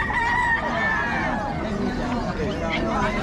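A rooster crows loudly nearby in a drawn-out call, with clucking fowl and a babble of voices chattering in the background throughout.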